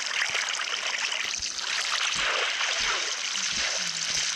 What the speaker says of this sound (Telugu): అసలు ఎక్కడి నుంచి వాటర్ మూసిపడతావు బలే.